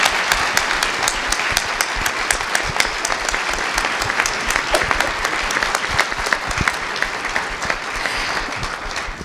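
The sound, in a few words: audience applause for the panelists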